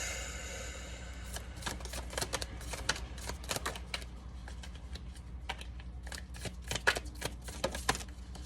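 Oracle cards are shuffled close up in a quiet room, a rapid series of crisp papery riffles and flicks coming in irregular bursts across the clip.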